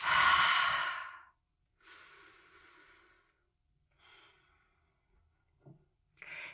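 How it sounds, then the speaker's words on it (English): Deep breaths during a core strength and back-care workout: a long loud exhale, then a softer breath, followed by fainter breathing and a quick sniff, spaced out with quiet pauses between. "You can take a deep breath"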